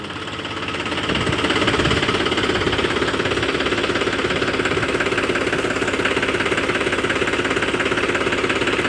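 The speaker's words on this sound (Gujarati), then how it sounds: "આપણે ટ્રેક્ટરનું ઓઇલ બદલાવીને જો ચાલુ કરી નાખ્યું છે" A tractor engine, just after an oil change, starts up and settles into a loud, steady diesel chugging with rapid rhythmic knocking, close by and running without pause.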